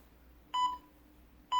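Timer app beeping, two short electronic tones about a second apart, clear and close over a quiet hum.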